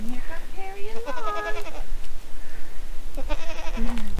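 Purebred Kiko and Kiko boar-mix meat goats bleat in several loud, wavering calls spaced across a few seconds, close by, with low outdoor noise underneath.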